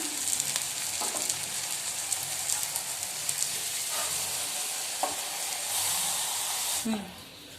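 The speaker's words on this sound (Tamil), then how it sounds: "இங்க பாருங்க நல்லா தோசை மொறு மொறுன்னு ஹோட்டல் ஸ்டைலில் நம்ம சுட்டுருக்குறோம்" Tomato dosa sizzling and frying crisp on a hot pan, hotel style, with a steady continuous hiss and a few faint scraping clicks throughout.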